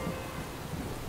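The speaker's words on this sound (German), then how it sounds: "Es stürmt und blitzt." Rain and thunder from a storm in the emergency-services game Emergency 2016, a steady low rumbling wash of rainfall with soft swells of distant thunder, continuous and fairly faint throughout.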